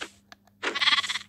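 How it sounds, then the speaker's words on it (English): Sheep bleating in the video game Minecraft, a couple of brief bleats followed by a louder, wavering bleat over quiet game ambience. "Oh, sheep."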